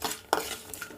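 A spoon scrapes and stirs tempering spices in a pan for Andhra-style potato curry, including chana dal, mustard seeds, cumin, sesame and peanuts. Three quick, close metallic strokes with short gaps between them, no voices.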